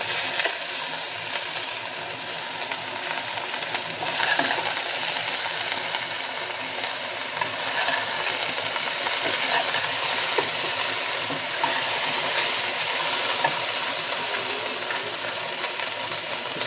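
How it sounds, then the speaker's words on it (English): Vegetables, tofu and bean curd being stirred in a pot for a vegetarian curry, giving a steady, close wet scraping and sizzling texture with small clinks, continuous and alone for the whole stretch. "we stir the pot well to make sure that everything is well incorporated into the vegetables and the tofu and the bean curd"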